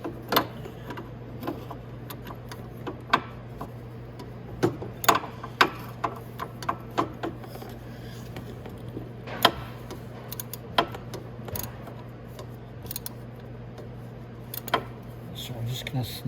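Ratchet clicks in short bursts as the oil drain bolt on a Venom motorcycle is snugged during its 500-mile service, the light ticking close and irregular beneath a steady hum, with a person talking.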